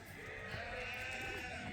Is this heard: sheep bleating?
yes